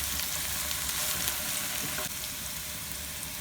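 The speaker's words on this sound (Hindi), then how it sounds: "प्याज को अच्छी तरह फ्राई कर लेते हैं।" Onions fry with cumin seeds in a pan, giving a soft, continuous sizzle and hiss, fairly quiet and even throughout with no voices.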